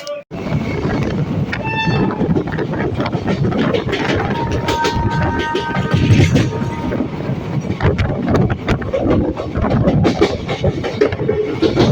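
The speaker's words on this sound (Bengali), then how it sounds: "অতিক্রম করে আমাদের ট্রেনটা ঢুকলো রানাঘাট জংশন" Hazarduari Express passenger train running steadily into Ranaghat Junction, a loud continuous rumble of wheels and carriages with rattling, brief tonal squeals and whistle-like hums, recorded from on board with no talk.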